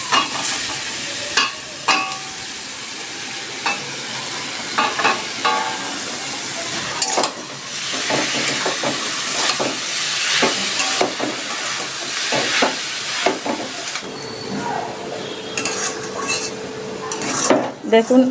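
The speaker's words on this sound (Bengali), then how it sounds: "চিনি দিয়ে নারকেল দিয়ে আমি একটু ভালো করে মেখে নিচ্ছি কড়াইতে দিয়ে দিচ্ছি" Grated coconut and sugar are stirred in a wok over heat, giving a continuous close sizzle with repeated scraping and knocking of a spatula against the metal pan throughout.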